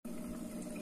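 Water pours steadily over vegetables in a cooking pot for a vegetable paya, a continuous close splashing and gurgling fill with no talking.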